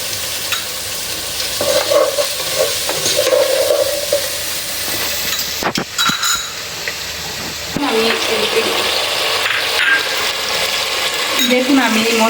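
A spoon stirs and mixes spiced biryani ingredients with coriander powder in a hot pot, scraping and sizzling close by, with louder frying hiss in bursts and brief clatters midway.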